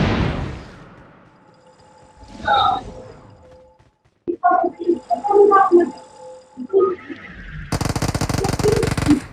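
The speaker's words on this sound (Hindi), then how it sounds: "अब इस बंदे ने फायर कर दिया है" Enemy gunfire in the BGMI battle-royale game ends in a rapid, loud automatic burst, following quieter in-game sounds and a voice talking.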